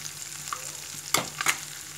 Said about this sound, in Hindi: now add this ginger garlic and red chilli paste, mix it properly and इसे अच्छे से भुनिए